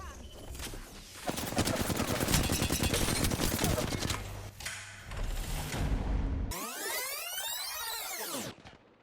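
Rapid automatic gunfire rattles in dense bursts during an Apex Legends firefight, broken by brief pauses and thuds, then giving way to a swooping, warbling effect at the end.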